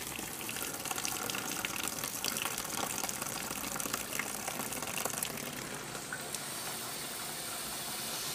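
A Best Choice Products portable mini washing machine fills with water from a faucet, making a steady rushing gush with a faint hiss that runs continuously and fairly loud at close range, with no talking.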